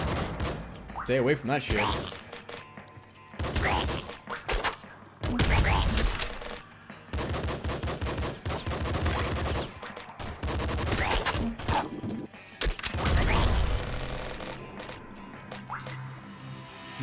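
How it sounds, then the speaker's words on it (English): A grenade launcher fires in the top-down shooter Nuclear Throne, with repeated short blasts and crackling bursts in bunches and someone talking between and over them. "I am loving this grenade launcher."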